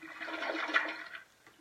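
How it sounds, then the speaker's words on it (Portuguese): A toilet flushing close by, a steady rush of water that swells to a peak midway, then drains and tapers off quickly, with no voices. "Pronto, demos descarga, Rômulo."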